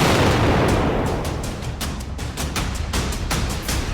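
A blast rips through a shop in a crowded Kanpur market as caught on CCTV: a loud boom at the start, then a rapid series of sharp cracks and pops continuing over a roaring background.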